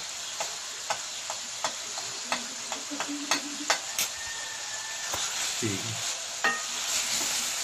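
Chicken karahi with turmeric and spice powders stirred and fried in a pan, a soft sizzle under repeated sharp clicks of a spoon against the pot.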